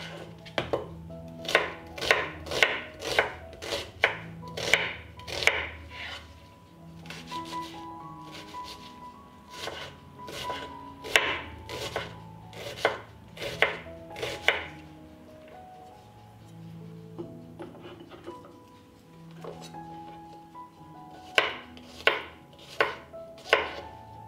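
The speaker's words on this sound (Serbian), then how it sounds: "Dok se krompir peče, iseckat ću crni i beli luk." Knife chopping onion and garlic on a board, a steady run of sharp, close cuts in quick bursts with short pauses between them, no voices.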